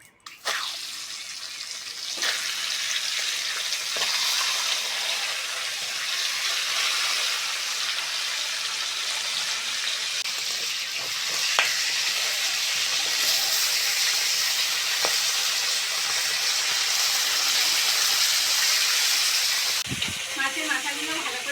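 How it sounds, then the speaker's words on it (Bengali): A fish head fries with turmeric and salt in a wok over a stove, producing a steady loud hissing sizzle throughout with a few faint knocks. "মাছের মাথাটা ভেজে নেবো অল্প করে হলুদ আর লবণ দিয়ে"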